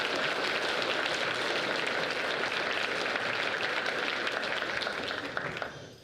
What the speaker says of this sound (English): Please give a round of applause for all the mathematic achievement